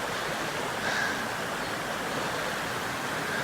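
Water rushing through a narrow gap in a clear trout stream, a steady close roar of broadband flow with no voices.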